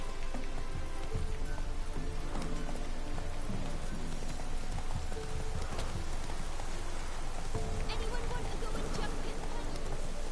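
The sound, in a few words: horse hooves clip-clopping while riding, Witcher 3 video game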